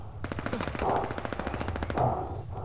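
Rapid automatic gunfire at a hard point in the Call of Duty: Vanguard video game, a dense rattling burst that runs nearly continuously for a few seconds, loud and close, with no talk over it.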